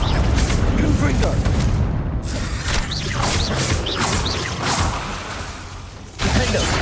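Dense, loud magical spell blasts from the Hogwarts Legacy video game, Confringo explosions booming and whooshing in rapid succession with constant crashing effects and combat noise, a voice shouting over the din.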